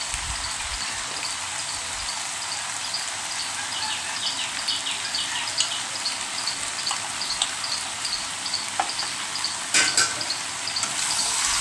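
Prawn and potato curry frying in a pan gives a steady, close hiss of sizzling with faint, occasional scrapes of stirring and a few louder clicks near the end, with no voices.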